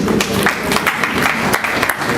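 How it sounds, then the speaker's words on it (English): Audience applause at a certificate presentation evening at Highfields Centre, a steady indoor clapping that runs the whole moment at moderate loudness, with dense overlapping hand claps. "give them a round of applause"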